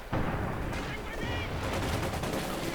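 Gunfire from Panzer Grenadiers in a strategy war game, heard as dense rattling bursts of rifle and machine-gun fire mixed with distant booms, continuous and fairly loud, with a voice talking over the battle.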